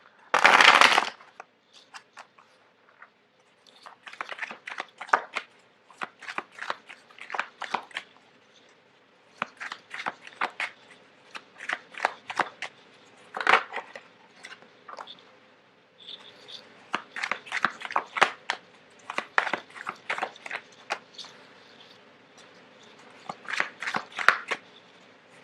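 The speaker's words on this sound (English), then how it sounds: "it's really difficult to shuffle on top of this tablecloth" Tarot cards riffle and slap on a tablecloth-covered table in repeated short bursts close by, with brief pauses between shuffles and no talking.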